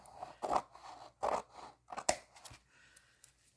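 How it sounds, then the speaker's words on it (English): Scissors cutting along the edge of rainbow-patterned craft paper for a journal, several crisp close snips and paper scrapes in separate bursts, with no talking. "And we're just cutting along the edge here."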